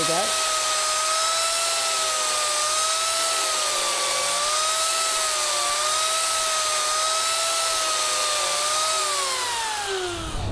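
A Mini Turbo carving blade on an angle grinder spins clockwise, giving a steady, loud high-pitched whine with a slowly wavering tone that holds for about ten seconds, then rises slightly and fades as it winds down.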